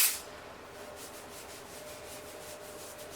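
Dry shampoo being rubbed and massaged into hair, a soft, steady scratchy rubbing close up, with a brief spray-like burst at the very start and no talking.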